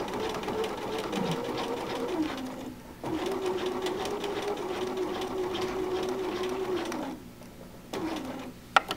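A sewing machine stitches a quilt in long continuous runs, its steady mechanical whirr pausing briefly twice as the fabric is turned, with a small click near the end.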